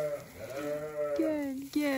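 Newborn lambs on a farm bleat close by in a few short, wavering cries, with someone speaking Turkish over them.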